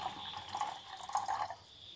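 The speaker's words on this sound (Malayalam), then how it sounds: "അപ്പോൾ വെള്ളം ആവശ്യത്തിന് ചേർക്കാം." Water is poured into a cooking pot in a home kitchen while ragi is being prepared. It makes a faint, uneven trickle and splash with a few small surges, and no voices are heard.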